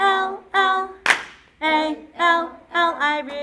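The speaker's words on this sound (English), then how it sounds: "Clap." A single sharp hand clap bursts out between repeated, rhythmic sung vocal phrases that carry on before and after it.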